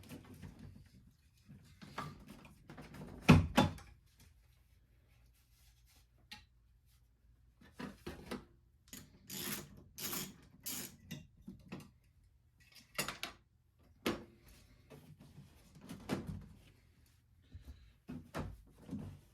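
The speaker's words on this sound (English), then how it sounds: "I'm like a pro at taking off these door cards at this point." Trim panels being pried and pulled off the doors of a lifted Ford Ranger, with scattered clicks, knocks and scraping rubs that come in irregular bursts and pauses, close by and moderately loud, with no one speaking.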